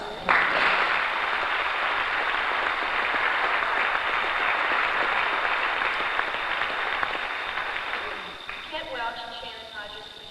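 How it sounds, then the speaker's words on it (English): Banquet audience at a 1991 high school athletic banquet claps steadily for about eight seconds, a dense, full roomful of applause that tapers off as a speaker's voice returns near the end. "To give them applause."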